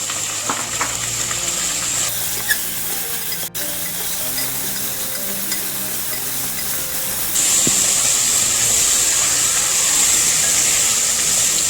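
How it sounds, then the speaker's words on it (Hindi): Chicken pieces fry in a hot pan while cooking a restaurant-style ginger chicken, giving a steady, close hiss of sizzling oil that grows louder and brighter partway through. No one speaks. "अब इसके साथ ही मैं इसमें ये सारा चिकन डाल दूंगी।"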